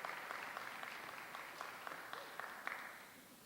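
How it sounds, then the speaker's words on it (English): An indoor conference audience applauds presenters at a forum, a dense, even patter of many hands clapping at moderate distance, steady for several seconds and gently tapering. "Let's give Sarah and Logan one more round of applause."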